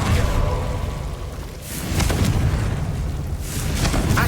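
Confringo blasting spell going off in the video game Hogwarts Legacy, a booming explosive burst with a whooshing tail, followed by further rumbling blasts over steady game noise.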